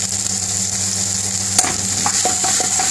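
Chopped green pepper, red pepper and onion frying in a pan, a steady close sizzle with a sharp clatter midway and a few light utensil knocks afterward, no speech.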